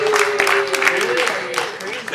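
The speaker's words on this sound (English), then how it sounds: "Clap if you're a Catholic." An audience at a stand-up comedy show claps on request, a patchy burst of clapping from scattered hands that trails off, while a voice carries over the top.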